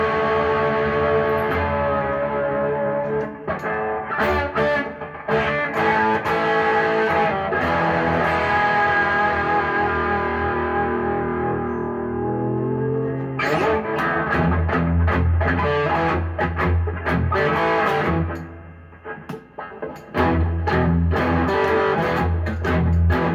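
A homemade steampunk electric guitar plays through distortion and echo effects, with sustained, densely layered chords that ring out, a shift partway through, and a brief dip before loud strumming returns, all with no talking.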